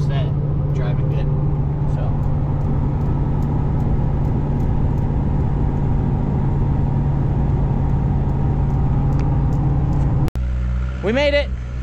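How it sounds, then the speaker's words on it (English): A Ford F-250 with a 6.7 Powerstroke diesel cruises at about 70 mph on the highway towing a 20,000-pound gooseneck trailer, giving a steady, loud cabin drone of road and engine noise that breaks briefly near the end. "We're currently at 70 miles an hour, cruise control set, driving good."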